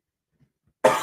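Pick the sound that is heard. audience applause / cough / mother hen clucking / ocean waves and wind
cough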